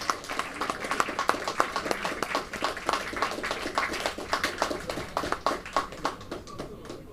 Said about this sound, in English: So another round of applause to our women's Pentamine champion.